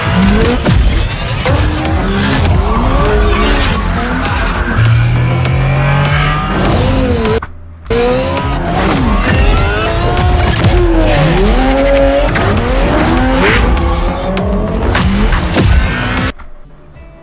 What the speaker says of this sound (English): 360 drift